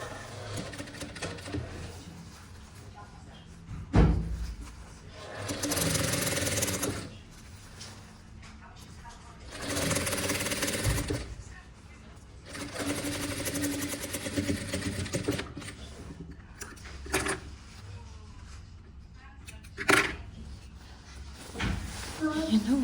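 A sewing machine stitches a vest in several bursts of rapid mechanical whirring separated by pauses, with a voice talking between and over the runs.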